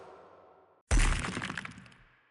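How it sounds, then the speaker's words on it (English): A large brick falls from a shrine's ceiling and shatters on the floor in an audio drama: one sudden loud crash with breaking debris and a short scattering tail, following a quieter low rumble, with no voice. "A large brick fell from the ceiling, shattering"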